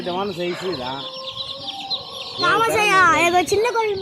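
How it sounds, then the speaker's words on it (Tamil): Colorful chicks cluck and chirp close by in a busy, overlapping chorus, with a louder burst of calls in the second half, in a village. "கலர் கலர் கோழி குஞ்சு அது வந்துருக்கு"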